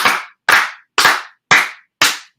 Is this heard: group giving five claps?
yes